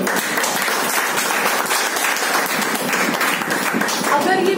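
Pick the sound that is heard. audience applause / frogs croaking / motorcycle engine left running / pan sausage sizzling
audience applause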